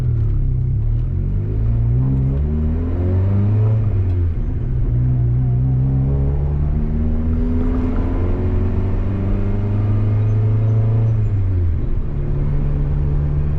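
Turbocharged Honda Civic with a built D16 engine pulls hard under boost, its loud, close engine note rising and falling through gear changes and steady revs.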